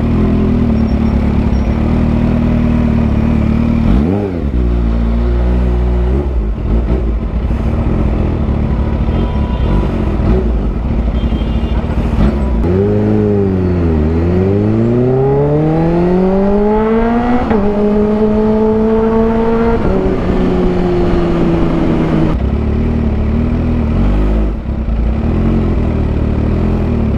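Kawasaki H2 motorcycle engine revving loud and close throughout, with rising and falling pitch sweeps as the throttle climbs and drops, over steady background noise.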